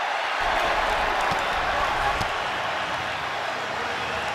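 Steady roar of a stadium crowd at an NFL football game between the Atlanta Falcons and Tampa Bay Buccaneers, building noise during a timeout, continuous and loud throughout with a broad wash of voices.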